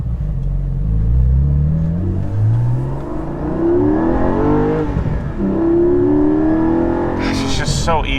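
A Porsche 718 GT4 drives at low speed, its engine humming and rising and falling in pitch with gear changes, close inside the cabin while someone talks over it.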